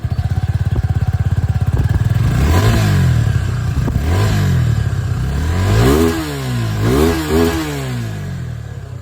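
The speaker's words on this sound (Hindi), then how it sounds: "एग्जॉस्ट साउंड आप लोग यहाँ पर सुन लीजिए।" A 250cc motorcycle with a dual barrel exhaust idles with a steady loud putter, then revs up and down several times in repeated throttle blips, close and alone.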